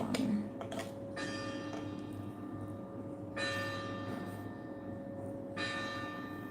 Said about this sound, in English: not the city bell making a sound